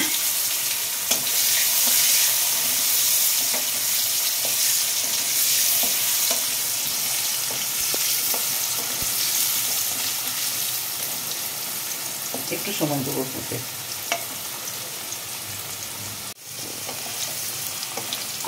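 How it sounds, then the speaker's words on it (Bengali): Potatoes fry in a pan with a steady, loud sizzle throughout, joined by occasional stirring clatter and a brief spoken remark over it. "দিয়ে আলুগুলোকে ফ্রাই করে নেব।"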